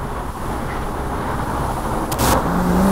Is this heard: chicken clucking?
no